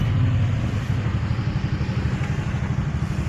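Vehicles crawl through a narrow village road jammed with traffic as people bring home Ganesh idols, a close, steady engine rumble with idling and rattling motors, no talking.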